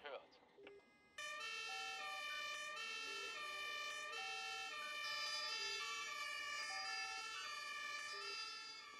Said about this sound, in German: Der macht schon extrem frühes Martinshorn an.